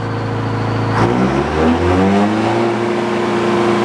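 A sawmill engine revs up sharply, its mid-pitched drone climbing and holding loud and steady, close by and without speech.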